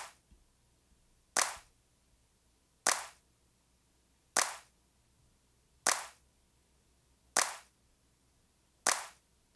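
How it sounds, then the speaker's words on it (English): Seven evenly spaced hand claps recorded in Logic Pro X with a compressor engaged, each one a punchy, snappy crack with a quick tail, repeating steadily about every one and a half seconds over near silence. "You should hear a snappiness in the claps."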